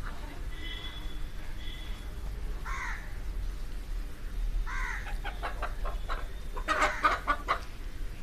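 BV380 chickens and other hens in a small backyard flock, with clucks and rooster-like calls coming and going in several bursts at moderate distance, a louder cluster near the end, over a steady outdoor background and faint voices.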